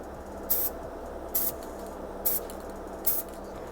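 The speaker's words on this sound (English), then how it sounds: "I'm going to take this metallic gold spray paint" Metallic gold spray paint sprayed from an aerosol can onto a replica knife prop in an open garage, four short sharp hissing bursts evenly spaced about a second apart over a faint background hum.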